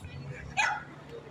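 A dog barks once, sharply, at an outdoor charity race for street dogs, rising briefly above a low murmur of crowd noise and background voices.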